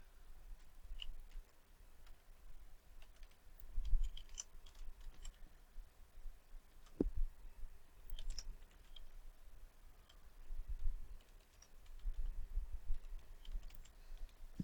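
Light, steady keystrokes on a computer keyboard enter an IPv6 address at a network lab terminal, soft and close with short pauses, no voices.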